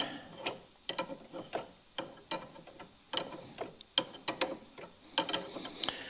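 Ratchet wrench clicking in short bursts while tightening a pair of 11/16 bolts on the loose rear end of a Cub Cadet 1872 lawn tractor, close and fairly quiet, with brief pauses between strokes.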